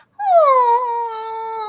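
A human voice imitates a dog's whine: one sustained, high, nasal tone that starts after a short pause, slides slightly downward, then holds steady and loud to the end.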